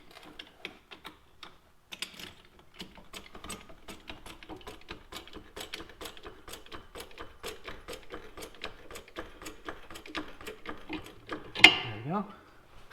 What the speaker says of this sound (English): we're gonna put the jack underneath the assembly here, lift it up slightly to get that to line up so it easily passes through